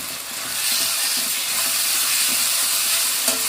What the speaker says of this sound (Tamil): சில்லி சாஸ் நம்ம ரெண்டுமே ஊற்றியாச்சு இப்போ நல்லா வந்து நல்லா மிக்ஸ் பண்ணிக்கலாம்